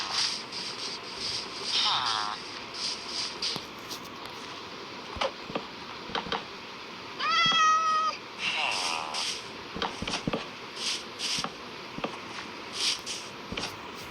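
A cat in the Minecraft video game gives several short, separate meows, one of them longer and more drawn out, over soft footsteps and light background noise.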